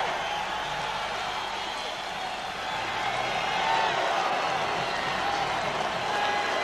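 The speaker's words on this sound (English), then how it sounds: "Should hear a big sound of applause now" Boxing arena crowd at the 1991 James Toney vs. Michael Nunn middleweight title fight, a steady broad roar of applause and cheering that holds throughout and swells slightly toward the end.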